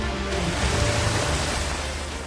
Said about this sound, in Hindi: जोरदार बारिश के बाद आई इस प्रचंड जलधारा ने सिर्फ खेतों जंगलों को ही जलमग्न नहीं किया